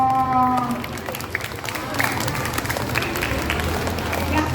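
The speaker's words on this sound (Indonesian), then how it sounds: "Tepuk tangan buat Bapak Misno." Children and listeners at a read-aloud session clap for Mr Misno, a moderate burst of scattered applause following a short spoken phrase at the start.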